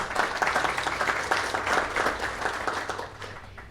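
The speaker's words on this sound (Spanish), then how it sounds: "Recibamos a Mariana Yombay con un fuerte aplauso" Applause from an audience at a panel discussion, a full burst of clapping that swells and then gradually tapers off toward the end.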